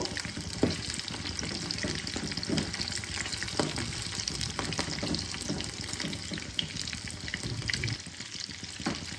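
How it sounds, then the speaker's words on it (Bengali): Fish pieces fry in hot oil in a kadhai until crisp, giving a dense, continuous bubbling sizzle at moderate distance, with occasional louder pops and no talking. "মাছগুলো দেখো আমার ভাজা হচ্ছে।"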